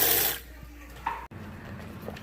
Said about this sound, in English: and just rinse it out